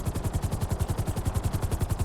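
A helicopter in GTA Online thumps with fast, steady rotor beats, loud and close, a continuous pulsing drone with no talk.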